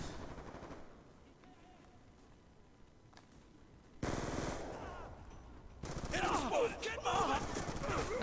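Submachine gun fire in Black Ops II: after a quiet stretch, rapid automatic bursts break out, close and loud, mixed with other game noise in the second half, and a player talks over part of it.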